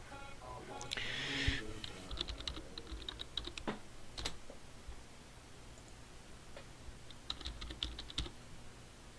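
Keys on a computer keyboard are tapped in quick, faint bursts of clicks while a Roblox game is played, with a brief rustle at the start and scattered keystrokes afterward.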